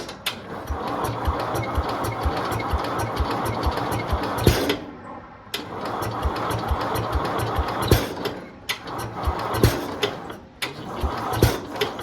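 A 1971 IH Cub Cadet 126 garden tractor engine cranks and runs with a fast, rhythmic mechanical chugging, close and fairly loud, dropping out briefly twice before picking back up.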